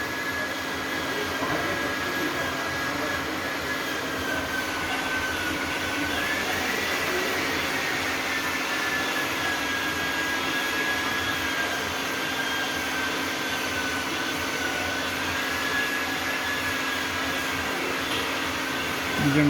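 A steady, loud machining whine with a high tonal squeal that drifts in pitch, a cutting tool working the cylinder liners of a Kenworth T2000 600 hp engine, running continuously.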